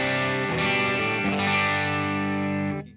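A Stratocaster or Telecaster electric guitar played straight into a Divided by 13 tube amp with a KT88 valve, sustained strummed chords with mild breakup, loud and close, ringing out and cutting off at the end.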